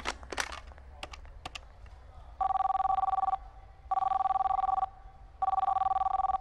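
A telephone rings in three long electronic bursts separated by short pauses, following a few brief knocks and clatter at the start.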